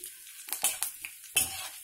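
Mustard seeds, cumin, urad dal, curry leaves and dried red chillies tempering in hot oil for a round-bean curry, with soft sizzling and several sharp stirring clinks of a utensil against the pan, close and fairly quiet, with no speech.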